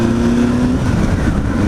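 A Honda CB500 motorcycle passes with a brief engine note on a road near the water, a short steady hum that fades.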